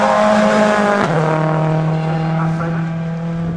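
A rally car engine roars loudly past on Wales Rally GB 2010, its pitch dropping sharply as it passes close by, then droning on steadily as it pulls away.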